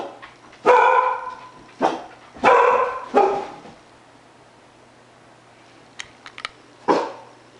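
A dog barks loudly and close, several sharp barks in a loose series with short pauses, then a few faint clicks and one final bark.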